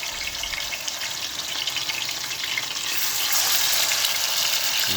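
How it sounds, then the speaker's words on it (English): Fish frying in hot oil in a pot for Jamaican brown stew fish: a steady, loud, hissing sizzle that swells slightly stronger midway and continues without pause. "fish is frying."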